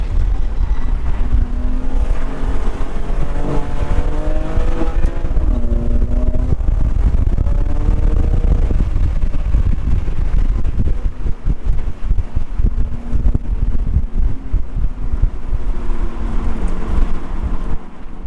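A BMW race car laps the Hallett circuit during a BMW CCA track day, its engine droning loud and close with rising and falling harmonic sweeps through gear changes, steady wind and cabin rumble underneath.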